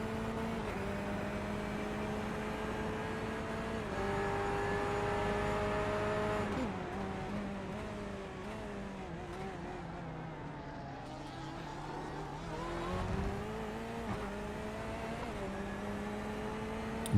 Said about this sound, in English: Both the Porsche and Corvette accelerating hard out of that turn there.